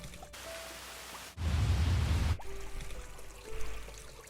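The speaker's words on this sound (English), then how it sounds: "I think we're going to use the trickling stream." Trickling-stream ambient water loop from the game Dreams: a soft, steady hiss of running water that shifts into a fuller, rushing burst partway through, then settles back to a gentle flow.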